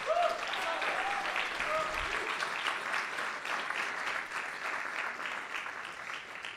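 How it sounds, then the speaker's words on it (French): Sustained applause from a festival audience, a dense even patter of many hands clapping at moderate distance for several seconds, with a brief voice near the start. "Je vous demande d'applaudir Luc fortement à la régie"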